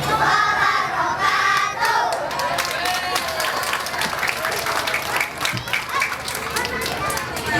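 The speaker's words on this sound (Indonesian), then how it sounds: "Tepuk tangannya" An audience at a school or religious gathering breaks into loud, sustained clapping with some cheering, dense and continuous, while a voice speaks over the crowd.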